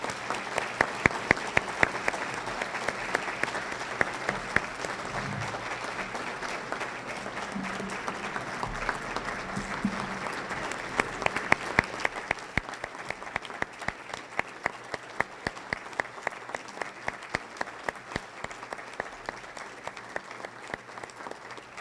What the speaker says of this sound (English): Let's give Heidi another round of applause.